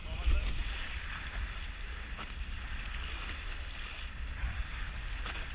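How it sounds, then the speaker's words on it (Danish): A boat pushes through large waves, with a continuous rushing wash of water and wind noise and a low engine rumble, steady and close throughout. "Kommer også ud af nogle pænt store bølger."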